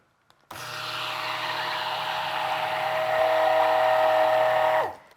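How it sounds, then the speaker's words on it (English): A steady, continuous motor whir runs for several seconds, starting abruptly and cutting off at the end, as a stick blender churns thick soap batter of oils. "now I'm gonna just stick blend it"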